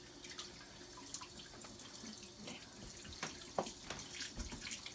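Water running from a tap while something is rinsed off at a sink, a faint steady splash with scattered drips and small knocks.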